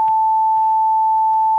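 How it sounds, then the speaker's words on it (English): A pure 440 Hz sine tone generated in a web browser holds steady and loud for the whole stretch, alone with no other sound. "a sine wave, which you can obviously hear as sound"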